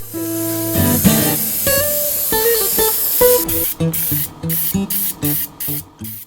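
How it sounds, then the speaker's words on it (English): Flexible concrete render is sprayed onto a polystyrene wall to give it a stone-like texture. Loud hissing spray comes in repeated short bursts over a background of tonal music. "The wall's then sprayed with a flexible concrete render that gives it a stone-like texture"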